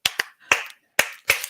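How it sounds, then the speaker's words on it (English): Hand claps in a loose rhythm, five sharp close claps: two quick ones, a pause, then three more evenly spaced, each with a brief ringing tail, alone in a quiet room. "rhythm clap, something to keep it fun and get it exciting"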